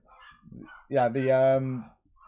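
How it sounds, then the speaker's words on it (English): Dogs excited by someone arriving home bark and yelp in the background of a house, a loud tonal bark-like burst in the middle with quieter yips around it, while a person talks nearby. "You have to excuse the dogs in the background."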